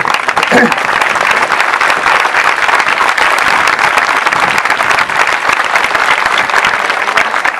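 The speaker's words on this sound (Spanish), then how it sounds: "Estamos aplaudiendo, ¿no?" Audience applauding during a public class on philosophy, education and politics, a dense, steady wash of many hands clapping that fills the whole stretch at full loudness, with a brief voice near the start.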